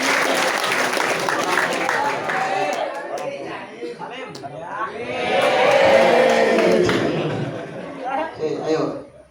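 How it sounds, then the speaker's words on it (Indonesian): Audience applause at a school Ramadan study gathering at a junior high school, a dense, steady clatter of many hands mixed with crowd voices and cheering, swelling louder in the middle before tapering off near the end. "Tepuk tangan buat Mas Rizky."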